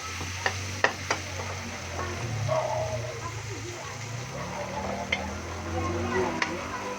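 Meat sizzles in a pan with garlic, onion and tomato, a steady close frying hiss under occasional stirring clacks, with a dog yipping faintly now and then.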